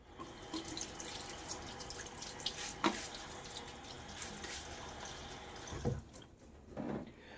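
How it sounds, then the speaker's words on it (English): Tap water runs and splashes at a sink as a face lathered with boar-brush shaving soap is rewetted, with steady flow, occasional drips and a few sharper splashes. "All right, let's get my face wet again."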